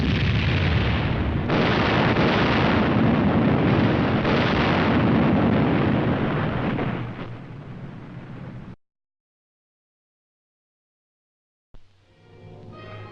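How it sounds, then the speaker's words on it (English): Napalm drop in a saturation firebombing test, a loud, sustained roaring blast of rolling explosions for several seconds that cuts off abruptly, followed by silence and then a rumbling roar resuming. "such as this napalm drop in a saturation firebombing test"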